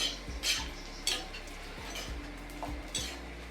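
Edible gum (dink) frying in a pan on low heat while being stirred, giving repeated metallic clinks and scrapes of the utensil against the pan over a steady low sizzle, close and continuous.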